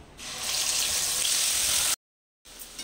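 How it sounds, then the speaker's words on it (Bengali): Green chilli spice paste hits hot oil for a rohu fish masala curry, giving a loud, steady broadband sizzle for about two seconds, then a sudden cut to silence before the frying noise returns more quietly. "তেলটা আমার গরম হয়ে গেছে, এখন আমি এর মধ্যে এই মশলাটা দিয়ে দিচ্ছি।"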